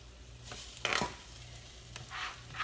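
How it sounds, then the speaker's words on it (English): Onions and pepper sautéing in a pot for a turkey and rice Mexican casserole, with a soft sizzle under bursts of stirring and scraping; fairly quiet, no talking. "I like to saute my veggies, like the onions and the pepper and the garlic first before adding my ground meat"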